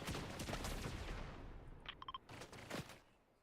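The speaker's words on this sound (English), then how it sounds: "they're shooting at somebody else now" Video game gunfire: dense, muffled bursts of rapid shots at low volume, followed by a few sharper distant cracks and a tapering rumble.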